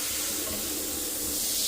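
Shower water runs in a steady, loud stream while a K&N air filter soaked in two-stroke oil is rinsed under it; no voices.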